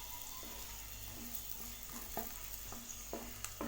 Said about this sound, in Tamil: ஆட் பண்ணிவிட்டு இதை லேசாக வதக்கிக்கலாங்க